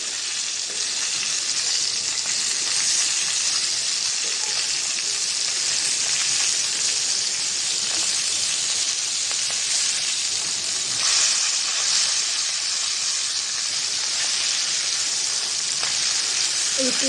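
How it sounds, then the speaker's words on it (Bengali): Fish fries in hot oil in a pan and is turned over partway through. A steady, close hiss and sizzle holds throughout with faint spatters, loud and even with no break. "উল্টিয়ে দিলাম, ওই পিঠটা ভাজা হোক।"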